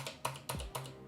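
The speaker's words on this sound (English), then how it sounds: "there's a click and a thock because you are reaching the bottom of the keyboard." Four clicky keystrokes on an Epomaker SK71 keyboard fitted with Gateron Optical Blue switches, each a sharp close click with a slight bottoming thock, evenly spaced about a quarter second apart.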